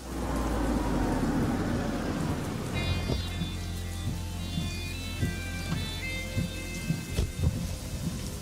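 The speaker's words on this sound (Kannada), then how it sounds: "ಮಳೆ ಬರ್ತಾ ಇದೆಯಲ್ಲ" Heavy rain pours steadily with a deep rumble of thunder at first, then scattered drips and splashes patter nearby over the continuing downpour.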